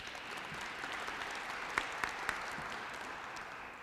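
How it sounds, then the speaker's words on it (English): An audience at a Black History Month opening ceremony applauds, a soft, steady patter of many hands heard from a distance with a few sharper claps standing out. "Would you give him a round of applause?"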